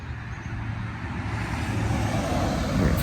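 A car passes by outside, a steady low engine and tyre rumble that swells gradually louder toward the end, heard alone without talk.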